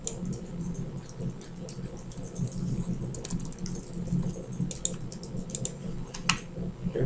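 Computer keyboard keys are pressed in quick irregular bursts of close, crisp clicks, with occasional single taps and a low background hum.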